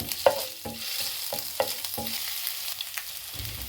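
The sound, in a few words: garlic ginger paste frying in oil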